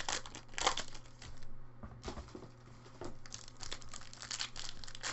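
Packs of 2015 Finest football trading cards being ripped open, with continuous crinkling and tearing of foil wrappers, close and steady, in quick repeated bursts without speech.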